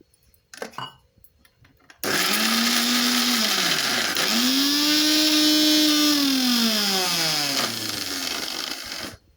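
An electric kitchen mixer grinds curry leaf chutney in a loud, steady whir, with a brief quiet patch before the motor starts and the pitch rising and falling as the load shifts.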